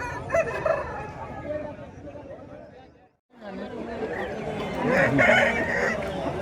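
Roosters crow and hens cluck amid a busy crowd with people talking and haggling at the weekly market in Pebbair, Telangana, broken by a brief silent gap midway.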